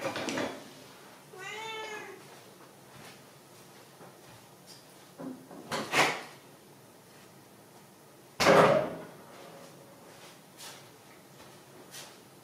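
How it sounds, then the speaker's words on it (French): A cat meows once, then a door is opened to let it in, with a few soft clunks of handling followed by two louder door thuds in a quiet indoor room. "je vais lui ouvrir la porte et je reviens."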